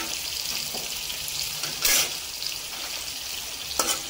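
Onions fry in oil in a pan for mutton biryani, a steady close sizzle and crackle with brief louder bursts as the onions are stirred.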